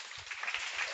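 Spectators at a high school boys swim and dive meet clap for a dive, a short, steady patter of applause from a crowd in an echoing pool hall.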